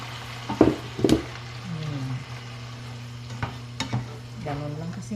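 Pork leg (pata) frying in a pan and being stirred, with a soft continuous sizzle broken by several sharp scraping stirs and clinks, close up and without talk.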